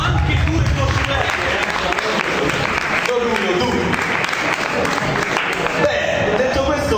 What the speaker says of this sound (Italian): Un bel applauso anche a loro due